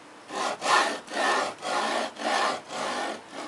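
A linear guide carriage with square balls travels along a Z axis, giving six rough, grinding strokes in a steady back-and-forth rhythm, each a second-long scraping rasp with brief pauses between, close and fairly loud.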